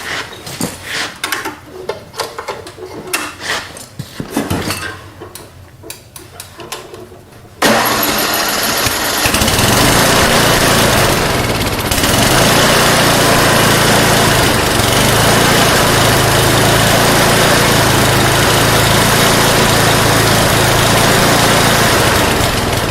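A small engine on an MTD snowblower with a freshly replaced carburetor and a surging fault cranks and catches, then runs loudly and continuously at a close, steady idle after some quieter handling noises.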